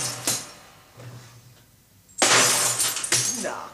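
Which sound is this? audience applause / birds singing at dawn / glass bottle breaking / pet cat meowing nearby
glass bottle breaking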